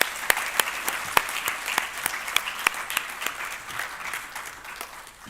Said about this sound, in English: I think we can just give Prof. Kit a round of applause.